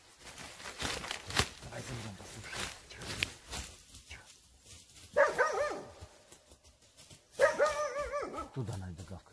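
A dog barks in short bursts toward a marsh while searching for a missing dog at night and morning, with people talking nearby and footsteps in between.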